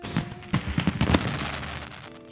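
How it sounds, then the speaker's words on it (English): The iMessage Happy New Year screen effect plays its fireworks sound, a quick run of soft popping bursts and crackles fading out over about two seconds. "Watch the fireworks."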